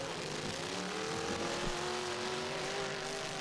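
A Pro Stock demolition derby car held at full throttle during a Bash for Cash 2025 consolation heat, a sustained loud engine drone with a steady, slowly rising pitch over crowd and arena noise.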